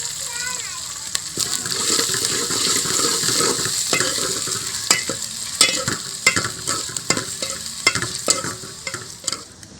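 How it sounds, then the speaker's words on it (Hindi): Cauliflower curry frying with masala in a pan, a constant sizzle with repeated sharp spoon scrapes and knocks throughout, children's voices and talk in the background. "ये वो पका रहा है गोभी।"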